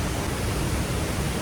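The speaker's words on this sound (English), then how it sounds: "Apparently, this is the second biggest waterfall." Steady broadband rush of water spilling down the Ouzoud waterfall in Morocco, a dense, even roar filling the whole clip with no breaks or voices.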